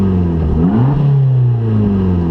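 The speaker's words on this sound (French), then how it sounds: "on a un moteur avec un échappement Akrapovic titane" An Abarth 695 Biposto engine with a titanium Akrapovic exhaust revs up and settles, a loud, close, rising and falling growl with no voices over it.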